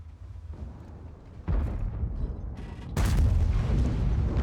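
Tank cannon fire from a Pz. VII in the World of Tanks video game: two heavy, booming shots about a second and a half apart, the second louder, each followed by a sustained rumble.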